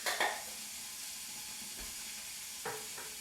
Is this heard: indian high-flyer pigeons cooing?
no